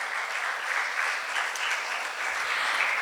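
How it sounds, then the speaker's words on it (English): Steady, dense applause from a crowd at a business school marketing conclave, even and sustained throughout with no pauses. "A big round of applause to all of you."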